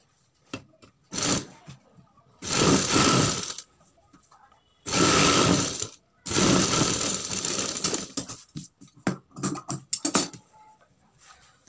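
Sewing machine stitching a sleeve with a frill, several separate bursts of fast, buzzing stitching of one to two seconds each, broken by pauses and small handling noises, close and fairly loud.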